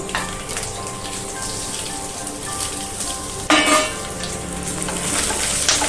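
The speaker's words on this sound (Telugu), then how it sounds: "ఆయిల్ వేడెక్కిందమ్మా ఎండుమిరపకాయలు వేయించుకున్నాం" Dried red chillies fry in hot oil with a continuous crackling sizzle, close and steady, with a sharp burst of louder spattering midway.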